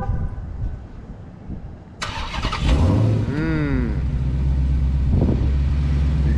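A 707 HP Dodge Challenger Hellcat fires up with a sudden loud starter crank and rev flare, then settles into a deep, steady, rumbling idle close by.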